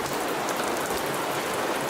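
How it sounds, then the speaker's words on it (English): Stormy rain from a video game pours as a dense, even hiss of drops on surfaces, loud and unbroken throughout. "It is rainy"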